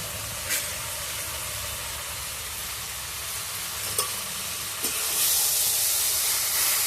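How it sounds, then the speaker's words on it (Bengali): Slit green chillies hit hot oil in a pan for a Bengali village-style fish-oil chhyachra, giving a steady loud sizzle and hiss with a few brief pops and stirring scrapes. "আমি চেরা কাঁচা লঙ্কাগুলো দিয়ে দিচ্ছি।"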